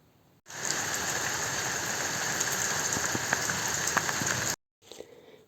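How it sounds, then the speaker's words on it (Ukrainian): Steady summer rain falls on an outdoor surface as a dense, continuous hiss with scattered distinct drops, stops abruptly, then resumes more faintly after a short silence; no voices. "сьогодні у нас пішов дощ"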